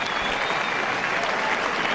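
A tennis crowd applauds Federer's straight-sets win over Ancic with sustained, dense clapping that holds evenly for two seconds.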